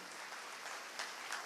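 A church congregation claps after a sermon by the pastor, a faint, even wash of applause with a couple of slightly louder bursts near the end and no talking.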